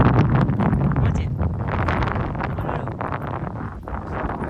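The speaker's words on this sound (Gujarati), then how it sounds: "પવન બહુ છે ભાઈ." Strong wind at Nagoa beach in Diu buffets the microphone in a loud, continuous broadband roar that swells and eases slightly throughout, with no clear speech over it.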